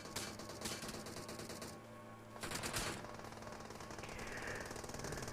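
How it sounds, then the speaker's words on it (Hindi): Rapid bursts of automatic gunfire from players in a PUBG Mobile match in an apartment area, dense rattling volleys starting and stopping over a steady game background, loud and close with a brief lull midway. "अपार्टमेंट से कुछ बंदे फायरिंग करने लगे थे"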